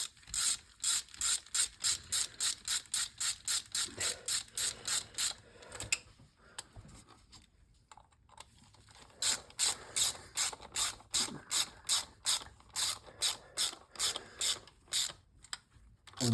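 A ratchet tightens bolts on a Jeep TrailHawk aluminum oil cooler: close, crisp bursts of rapid clicking strokes, a pause near the middle, then more rhythmic ratcheting.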